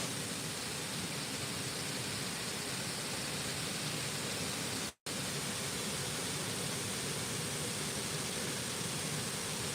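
A waterfall pours into a pool beneath big old trees, producing a steady, broad rushing roar at even volume, briefly cut by a short dropout midway.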